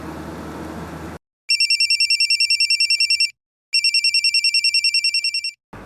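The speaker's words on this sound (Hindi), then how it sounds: "वो बैगन विला की घंटी बज रही है।" A telephone bell rings in two loud bursts of rapid electronic trilling separated by a short gap, preceded by a moment of background noise.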